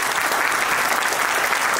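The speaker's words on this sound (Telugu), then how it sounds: "మీరందరూ కూడా ఒక్కసారి జీవికేకు హృదయపూర్వకంగా చప్పట్లు కొట్టాలని గట్టిగా" An indoor audience applauds for GVK with dense, steady clapping from many hands, loud and continuous from start to finish with no talk over it.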